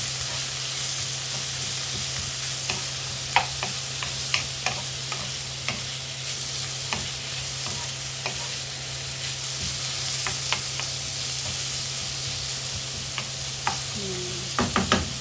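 Tomatoes and onion sauté in a pan with a steady close sizzle, overlaid by intermittent light clicks and scrapes of a utensil stirring, no voices.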